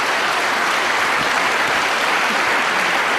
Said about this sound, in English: Tremendous round of applause for that shot,